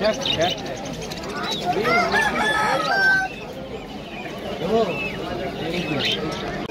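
A rooster crows and chickens cluck amid the bustle of a busy pet market in Kolkata, the calls repeating under and between people talking nearby.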